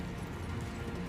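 Horse hooves galloping in Elden Ring, a steady stream of dense, rumbling clip-clop beats over constant game noise, with hints of talk in the background.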